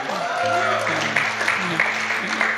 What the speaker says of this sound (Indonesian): Tepuk tangan untuk Presley sekali lagi.